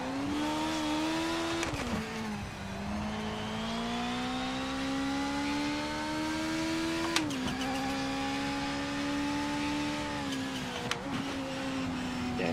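Race car engine in a racing video game, driven from the cockpit, holding a loud continuous drone that climbs in pitch, drops sharply at gear changes and climbs again, with no talking.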